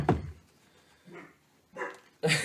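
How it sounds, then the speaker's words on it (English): Dogs give a few short barks: one sharp close bark at the start, then fainter yips after short pauses, ending in a louder bark. "I set off my dogs because I'm the worst"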